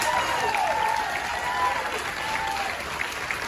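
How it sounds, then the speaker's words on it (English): Audience at a comedy show on a Carnival Vista cruise ship applauding veterans, steady continuous clapping with crowd noise filling the room throughout. "Clap for them right now."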